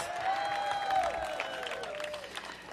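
Audience applause at a Washington, D.C. mayoral press event, a dense, steady wash of clapping from a crowd that holds fairly even throughout, with faint voices mixed in.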